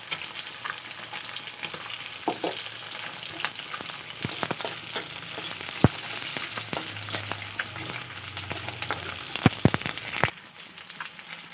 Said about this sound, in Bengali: আমি কড়াইতে দিয়ে দিলাম সাদা তেল এখন দিয়ে দেবো কালো সর্ষে আর শুকনো লঙ্কা